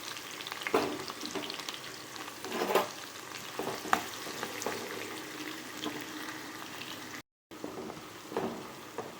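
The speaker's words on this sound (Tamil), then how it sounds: "இந்த ஆனியனே சேர்த்துக்குவோம். சேர்த்து நல்லா வதக்கணும்." Chopped onions sautéing in a pan for vegetable biryani, a steady close frying sizzle with a few louder stirring scrapes and clinks, briefly cut to silence near the end.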